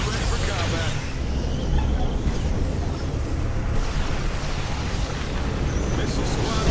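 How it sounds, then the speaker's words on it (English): An ion cannon strike in a Tiberium Wars skirmish, a dense, sustained roaring blast with rumbling noise that stays loud throughout, overlaid with indistinct battle chatter. "Ion cannon activated"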